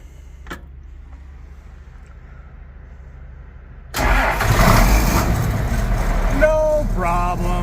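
An old tractor engine cold-starts after a few seconds of quiet, catching abruptly and settling into a loud, rough running roar close by, with a brief higher whine near the end.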